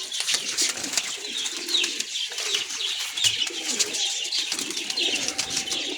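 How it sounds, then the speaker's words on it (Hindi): Teddy breed pigeons at a breeder's loft in Lahore coo and murmur continuously, a soft chorus of several birds close by, with occasional wing flutters and no talking. "ये देखें जी टैडी कबूतर देखें"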